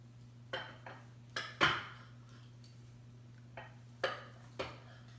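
Knife chopping onions, yellow peppers and olives on a board in a home kitchen, a handful of sharp separate cuts spaced irregularly over a low steady hum.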